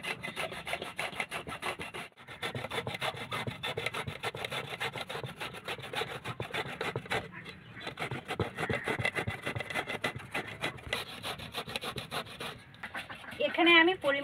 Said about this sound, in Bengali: গেটারটা দিয়ে গুড়গুলো ভালো করে ঘষে নেবো যাতে তাড়াতাড়ি গুলে যায়